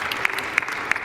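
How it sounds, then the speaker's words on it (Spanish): Church congregation clapping together in a steady, dense wash of applause, fairly close and continuous with a few sharper individual claps standing out, no talking over it. "¿Por qué no da un aplauso al Señor por eso?"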